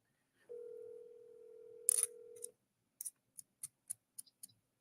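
A phone dial tone hums steadily for about two seconds, then a short run of quick dialing clicks follows as a call is placed back to a seller, close and clean.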